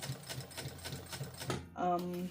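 A domestic sewing machine stitching in quick, steady rhythmic pulses, ending with a brief sustained whir, while a person talks over it.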